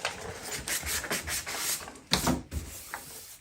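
A car headlight lens is hand-sanded with 400 grit sandpaper, a soft scratchy rubbing in short back-and-forth strokes, fairly quiet and close, with a sharper scrape partway through.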